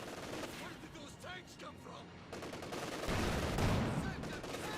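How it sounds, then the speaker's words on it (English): Machine gun fire from a church building in the video game Company of Heroes 2, rapid bursts crackling among battle noise, with a louder rumbling stretch in the second half. "machine gun fire going off left and right here from the church, suppressing numerous units nearby"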